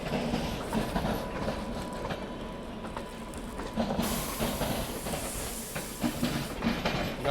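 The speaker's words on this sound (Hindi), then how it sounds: "पूरे घिसे हुए WP7 के साथ कोई तो गाड़ी यहाँ पे निकल रही है" A New Delhi–Indore Intercity train hauled by a worn WAP-7 electric locomotive passes in fog, its rumble, hiss and rhythmic wheel clatter fairly faint and continuous with no talk.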